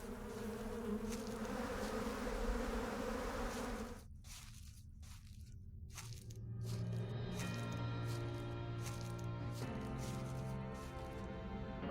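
Insect buzzing in the horror video game Sucker for Love, a low droning hum that cuts out abruptly partway, then gives way to a quieter, tonal layered drone.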